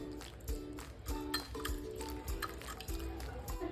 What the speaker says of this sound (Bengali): ঠান্ডা জল দিয়ে আমি একটু সাবুদানাকে ধুয়ে নেব।